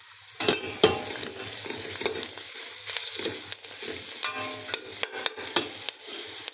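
A borscht base with beef, onion and black pepper sizzles steadily in a frying pan while a spoon stirs and scrapes it in repeated close, loud strokes, with no talking.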